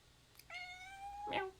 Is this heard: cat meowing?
yes